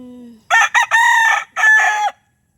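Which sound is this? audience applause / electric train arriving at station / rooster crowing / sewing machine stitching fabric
rooster crowing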